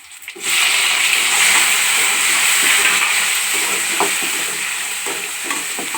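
Chopped tomatoes and garlic fry in a pan for Udupi-style rasam, a steady loud sizzle that starts abruptly and continues throughout with occasional stirring clinks.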